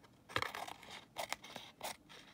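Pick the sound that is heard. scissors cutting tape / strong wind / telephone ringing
scissors cutting tape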